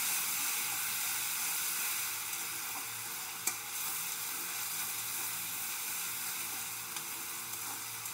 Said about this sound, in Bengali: রসুনটা পুড়িয়ে নিয়েছি, আমি বেটে নিয়েছি, এটাকে এখন দিয়ে দিচ্ছি।